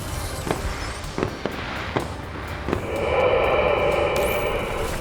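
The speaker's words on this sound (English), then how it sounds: "It's trying to use the fireworks as a weapon." Fireworks launched as a weapon in the video game Space Engineers, with several sharp pops spread over the first few seconds, then a sustained hissing whoosh and crackle that stays loud to the end.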